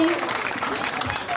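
An audience at a Balinese comedic Calonarang performance claps in a brief, dense spatter of applause, with voices talking over it.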